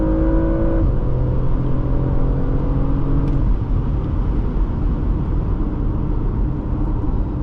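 A 2023 Porsche Macan S pulls away hard from idle, its engine rising in a loud, continuous accelerating roar with a shift partway through, heard from inside the cabin.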